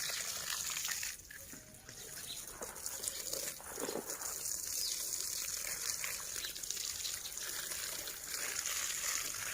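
Water trickles and splashes faintly and steadily while flowers are watered outdoors, with a soft continuous hiss of flow.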